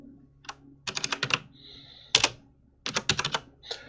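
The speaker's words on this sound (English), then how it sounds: "Sorry about the loud clicking, I love my mechanical keyboard though." Loud, crisp clicking of a mechanical keyboard, keys struck in quick bursts with brief pauses between, close up and alone.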